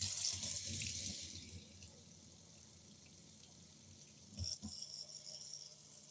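Kitchen tap running water into a sink, a steady hiss that fades to a quieter flow before a brief clatter and renewed splashing near the end.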